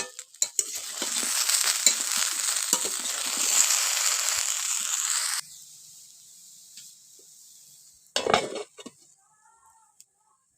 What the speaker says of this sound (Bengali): এবার এতে আমি কিছুটা নুন আর হলুদ দিয়ে ভালো করে নেড়ে চেড়ে নিয়ে ঢাকনা বন্ধ করে দিলাম